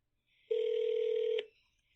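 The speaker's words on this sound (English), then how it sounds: "Yeah, I can sort of hear it ringing." A single electronic telephone ring tone comes through a conference call, one steady beep of about a second, clear and fairly loud against silence.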